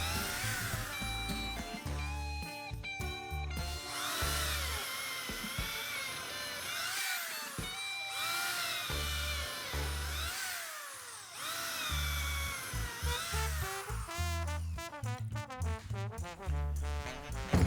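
A power drill whines in repeated bursts, its pitch rising and falling as it bores through wood, with short pauses between holes and no talking.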